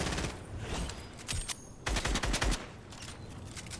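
Rapid Fortnite gunfire rattles in quick clusters of shots, loud automatic bursts with short gaps between them, heard fairly close with no talking.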